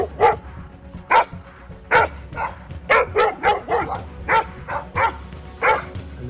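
Dogs in a rural community bark repeatedly and loudly at someone walking by on foot, sharp irregular barks in quick bursts with a few yips and whimpers mixed in.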